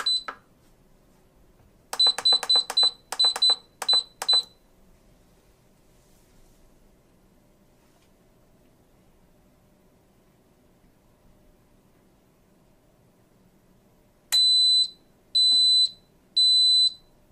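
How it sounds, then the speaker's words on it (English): An Instant Pot Mini Lux pressure cooker gives bright electronic beeps, a fast cluster of short tones followed after a long quiet gap by three more spaced beeps, close and clear over faint background hiss. "the unit beeps 3 times and displays on, which means it's preheating"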